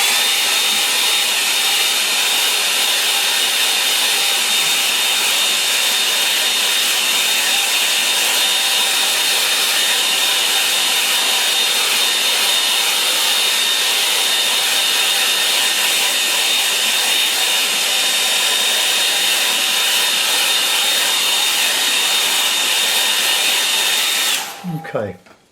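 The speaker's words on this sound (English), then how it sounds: "mute your sound because I'm going to use the hairdryer" A hair dryer blows steadily and loudly at close range for about 24 seconds with an even whine and airy rush, then cuts off abruptly near the end.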